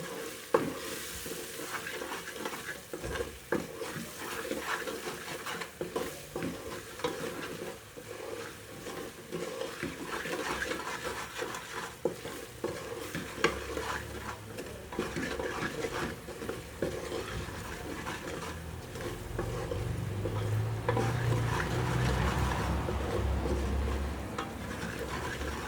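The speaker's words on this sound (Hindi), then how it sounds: "मसाला को हम भूनने देंगे।" Spiced masala of red chilli, salt and turmeric powder sizzles steadily in a pan for village-style moong dal, with frequent scraping stirs throughout and the frying growing fuller toward the end.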